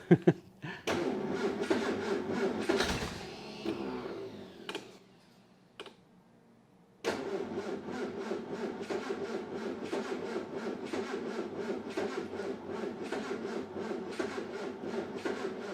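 Clattering and rubbing noises, a brief silence, then the engine of a 1964 Triumph TR4 cranks over in a steady, rapid rhythmic chug that continues to the end.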